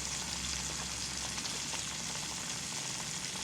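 Bill E's bacon frying in a pan, a continuous crackling sizzle with fine popping spatters, steady and close, heard alone without any talking.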